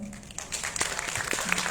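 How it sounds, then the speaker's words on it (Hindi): Audience applause at a student elocution contest, moderately loud scattered clapping from a hall lasting under two seconds, with a voice faintly present alongside. "जोरदार तालियां"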